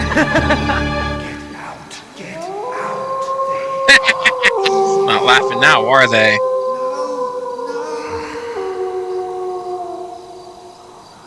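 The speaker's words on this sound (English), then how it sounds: "That was just a dog howling." Dog howling in the Shivers game, a long wavering howl that rises and holds over several seconds, loud and close, with a voice speaking at the start and brief sharp bangs in the middle.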